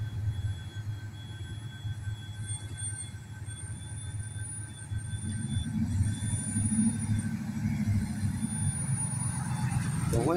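Cars idle and roll through a road intersection being monitored by a Georgia State Patrol trooper, a steady low traffic rumble that swells as vehicles move, with a faint high whine above.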